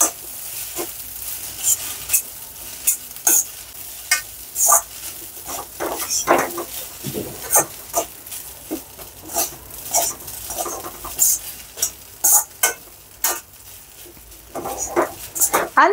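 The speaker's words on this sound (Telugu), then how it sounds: "ఇప్పుడు ఈ కొత్తిమీర లెమన్ అంతా కలిసేంత వరకు కలుపుకుందాం" A spoon stirs carrot rice mixed with fresh coriander and lemon juice in a pot. Irregular scraping and tapping strikes come close and sharp against a quiet background, some louder clusters mixed among softer ones.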